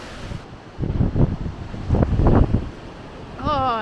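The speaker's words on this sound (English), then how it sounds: "Oh, the wind is just brutal." Strong wind buffeting a microphone at an overlook in Volcano National Park on the Big Island of Hawaii, steady roaring rumble with gusty surges, ending with a faint whistling tone.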